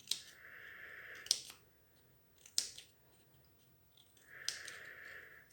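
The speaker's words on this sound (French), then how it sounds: "Et maintenant, je vais couper, je vais arrondir un petit peu pour faire des pétales" Scissors snip around paper to round off flower petals, giving a few quiet, close cutting strokes with small clicks of the blades, separated by short pauses and with no voices.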